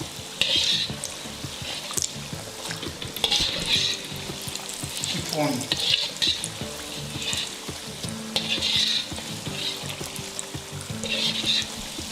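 Spring rolls and samosas fry in very hot cooking oil, giving a close, continuous sizzle and bubbling crackle with repeated surges as the pieces are stirred, and a voice speaks briefly over it.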